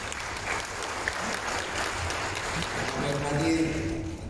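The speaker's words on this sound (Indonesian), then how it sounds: "Tepuk tangan." Steady audience applause at a formal civic event in Jakarta, moderately loud and continuous for about four seconds, with some crowd murmur beneath the clapping.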